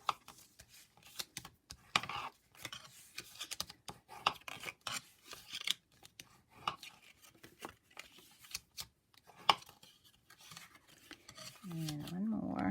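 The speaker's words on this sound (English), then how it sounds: "I'm going to fold and burnish on all the score lines." Paper for an octagon goodie box being folded and burnished along its score lines, giving soft rubbing and scraping strokes with light taps and creases, close and quiet, with no talk.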